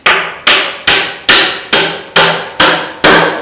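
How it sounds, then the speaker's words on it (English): Eight sharp, evenly spaced hammer blows drive roofing nails into wood close by, each strike loud and decaying quickly before the next. "so I'm going to nail it"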